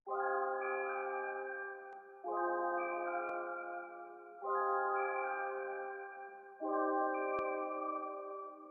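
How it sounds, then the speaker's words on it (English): Strummed keys in a dark trap sample made in FL Studio: four sustained, shimmering chords, each strummed and ringing for about two seconds, soft and spacious, played alone. "I added some keys that were strummed so they sound like this."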